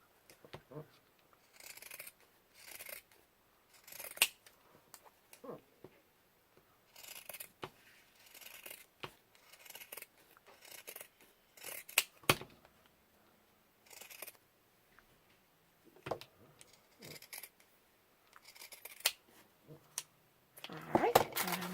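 Repeated crisp snips of scissors cutting through thick fabric, irregular bursts close up, with quiet background noise between cuts.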